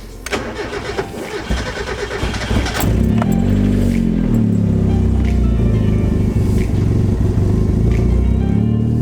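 A Mazda Miata with a suspected throttle position sensor or wiring fault cranks for a few seconds, then catches and settles into a loud, steady idle, heard close up.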